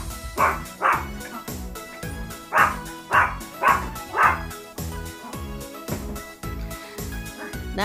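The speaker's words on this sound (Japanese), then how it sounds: "ジュエルが一生懸命吠えております。" A dog barks repeatedly in short bursts at a shower spray toy, fairly close, with some yips mixed in over a background of clattering noise.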